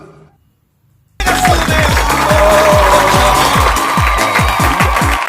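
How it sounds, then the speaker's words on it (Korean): Elementary school students on a school trip let out a sudden, loud burst of cheering and clapping after a brief quiet moment, with rapid rhythmic claps under a sustained roar. "함성과 박수!"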